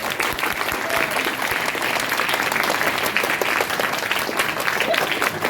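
A large audience applauds after a speech, a dense, steady wash of clapping that stays loud and even throughout with no voices on top.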